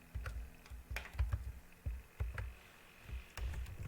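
Keystrokes on a computer keyboard come in short irregular bursts of clicks, typing out a math lesson name in a quiet room with no talking.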